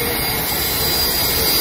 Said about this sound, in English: Power trowels over here.